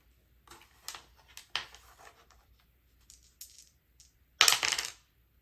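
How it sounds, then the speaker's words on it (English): Dice roll with a series of light, scattered clicks and taps across a surface, ending in a louder, rattling clatter near the end, close and without speech. "Now let's roll a dice for the next color."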